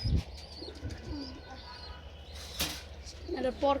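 Pigeons coo softly inside a pigeon loft, low murmuring calls near the start and later, with brief chirps, a burst of flapping wings, and people talking faintly in the background.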